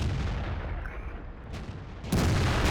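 Tank cannon shot in World of Tanks, a single heavy blast that erupts near the end after a low rumbling lull and stays loud as it rolls out.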